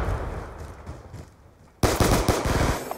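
Tac-45 pistol fire in Black Ops 2 on the Hijacked map, a loud burst of several rapid, closely spaced shots cracking out after a quieter stretch of game background noise.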